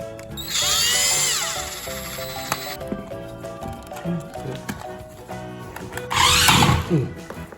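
A power tool drives screws into an RC Cyklone Aqua Tread toy, with a loud whirring burst early, smaller clicks and ratcheting in between, then another short high-pitched whir near the end, with some voices in the background.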